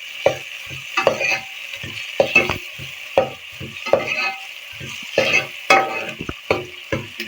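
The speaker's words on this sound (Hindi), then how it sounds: "फ्राई हो चुका है ये लहसुन अदरक का पेस्ट।" Garlic ginger paste sizzling and frying in a pan as it is stirred, with irregular scraping bursts and crackles repeating through the short clip, close and moderately loud with no talk.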